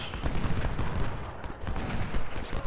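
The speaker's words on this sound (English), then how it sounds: "Fire them pistols. Fire them pistols again." Rapid, overlapping pistol fire in the video game Ultimate General: Civil War, a loud crackling volley of shots rattling on continuously with no pauses.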